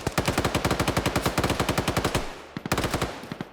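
Rapid machine-gun fire in a team-based online shooter game, a long steady burst of evenly spaced loud shots that stops, then resumes as a shorter burst after a brief pause, with no talking.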